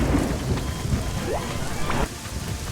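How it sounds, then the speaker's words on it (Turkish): Rain patters continuously on a surface with a low rumble underneath, a steady wet hiss throughout, from the video game ORION: Prelude. "Oo yağmurlu havaya efekt çok güzelmiş bu arada var ya."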